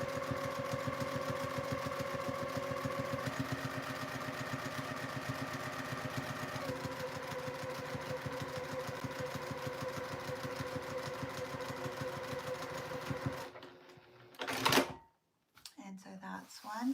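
A Juki TL2000 QI sewing machine backstitches a sleeve with a steady, fast mechanical pulsing. It runs quietly for about thirteen seconds, then stops, followed by a few handling noises.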